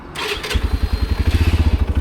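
A 2026 CFMOTO Papio SS motorcycle engine catches and settles into a fast, even, fairly quiet idle with a regular low pulsing beat, heard up close.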